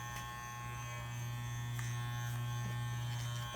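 Repaired electric hair clippers with a plastic frame run steadily and quietly, a continuous low motor hum with a faint buzz, close and alone throughout with no talking.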